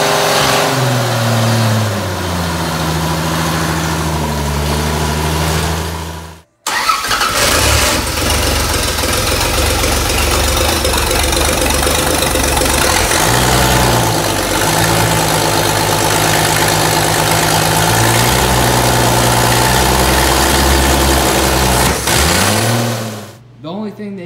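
A freshly rebuilt race car engine with new valve stem seals idles and revs after a brief cut, rising and falling in steady pulls, loud and close, with voices faintly beneath.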